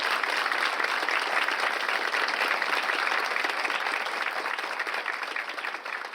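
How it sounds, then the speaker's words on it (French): An audience at a church Bible study in Naples, Florida applauds a guest speaker, a dense steady clapping that carries on for several seconds and gradually tapers off. "Un applaudissement pour notre sœur."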